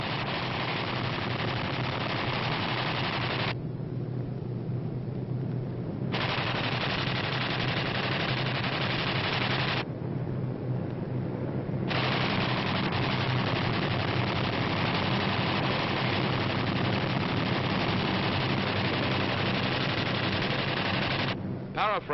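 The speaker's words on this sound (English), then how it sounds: "These B-25s are carrying out low-level strafing operations against Jap surface vessels" B-25 bombers make low-level strafing runs against Japanese surface vessels and an airfield in 1944 combat footage, with dense, continuous machine-gun fire and engine roar; the racket drops out briefly twice and then resumes.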